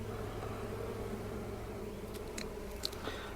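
Honey bees buzzing around an open hive during an inspection among drone brood frames, a steady faint drone with a few brief louder passes near the end, no talking.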